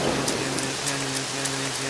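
Rain falling steadily in a dense hiss, with faint rhythmic tapping and a soft low hum beneath, over a short stretch.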